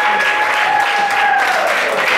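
Audience applause at a community gathering in honor of a gospel singer: a loud, continuous wash of clapping with a faint steady tone running beneath it.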